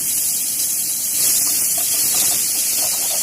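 Ground spice paste hits hot oil in a pan and sizzles with a loud, steady, bright hiss that swells slightly midway and carries on alone.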